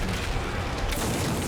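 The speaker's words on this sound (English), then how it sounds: "Throw a flashbang." A flashbang grenade goes off in Resident Evil 2 Remake, a brief muffled boom with a burst of noise that fills the short moment.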